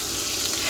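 Corned beef hash patties fry in butter in a hot pan, giving a brief burst of dense, close sizzling.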